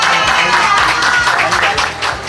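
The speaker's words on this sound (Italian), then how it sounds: "un applauso subito per Elisa." Audience applause for Elisa at a presentation of the Bellezze Venete 2023 calendar in Padova, steady clapping from a crowd close by, with some voices mixed in.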